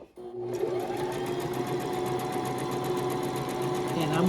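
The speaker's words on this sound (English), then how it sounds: "I'm going to sew this down 1/4 inch seam" A sewing machine runs at a steady, fast, even rhythm while stitching a quarter-inch seam on a scrappy lap quilt, starting after a brief pause and staying close and loud throughout.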